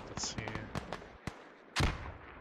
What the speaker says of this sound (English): Trying to mortar down the Russian hab